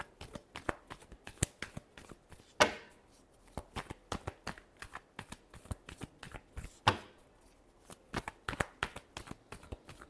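Tarot cards being shuffled by hand, a rapid run of crisp riffling flicks and soft slaps with two louder bursts, close and fairly quiet, with no talking.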